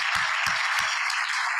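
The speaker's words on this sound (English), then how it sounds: "so please give them an applause too" A room of Rotary club members gives a brisk, continuous round of applause for event sponsors, many hands clapping at close range without any talk.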